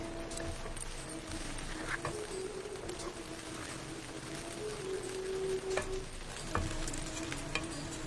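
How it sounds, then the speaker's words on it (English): Poha is stirred and tossed in a pan with two spoons, giving a steady soft scraping and rustling and a faint sizzle, with a few light clinks of the spoons against the pan. "I like to use these 2 spoons because it mixes up nicely and the whole thing gets nicely mixed"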